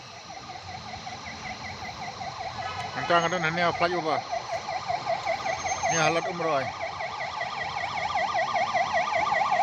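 An ambulance siren wails continuously in a rapid rising-and-falling pattern, steadily growing louder, while someone speaks briefly twice over it.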